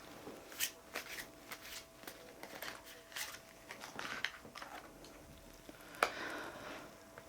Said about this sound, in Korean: 주역 카드 한번 뽑겠습니다